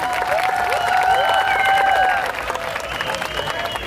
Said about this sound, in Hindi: तालियां हो जाए अपनी ऑडियंस के लिए भाई